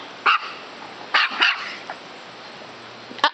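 Several sharp dog barks in separate bursts, a pair close together mid-clip and one more near the end, with quiet room tone between.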